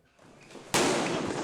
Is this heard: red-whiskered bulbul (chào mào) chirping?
no